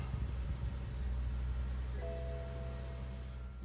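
A BMW F01/F10 engine idles steadily again after a restart, a low, even hum close by with a faint tonal whine joining partway through.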